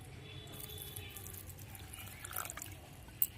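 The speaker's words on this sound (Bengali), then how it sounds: "এবার জল দিয়ে দেবো" Water being poured into a semolina, flour and sugar malpua batter, a soft continuous trickle and splash, fairly faint, with one sharp tap near the end.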